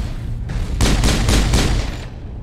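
Rapid gunfire in Mass Effect, a quick burst of several sharp shots in a row, loud and close, fading out at the end with no voices.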